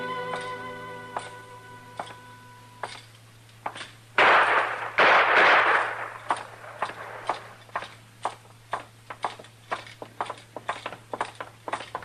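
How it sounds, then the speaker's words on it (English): Gunfire cracks in an old radio western drama, with two loud, close shots bursting in quick succession. Scattered footsteps and clopping effects follow over a low, steady hum. "Trimble come in, tried to shoot Cam Spiegel, and Cam killed him"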